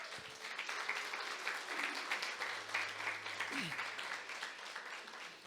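A church congregation gives sustained applause during a sermon, a dense, even patter of many hands clapping at moderate loudness, with faint voices and a brief low tone mixed underneath.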